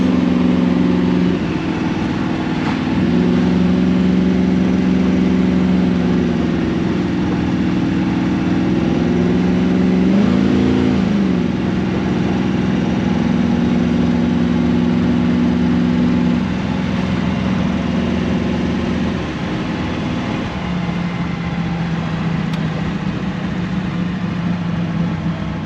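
The V8 engine of a 1982 Chevy S10 drones steadily while driving, a loud, continuous low rumble with slight shifts in pitch as speed changes.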